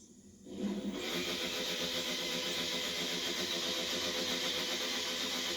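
A motorcycle engine from the racing video game The Crew starts after a quiet moment, then settles into a loud, steady buzzing drone that holds evenly to the end.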